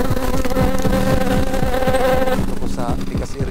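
A swarm of bees buzzing around a farm hut in the hills, a dense close-up drone with rapid rhythmic pulsing, continuous and loud for a few seconds before thinning slightly.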